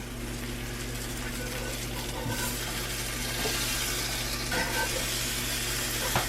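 Chili cheese burritos fry in a cast iron pan, giving a close, continuous sizzle with occasional light clinks and scrapes, and the crackle builds slightly toward the end.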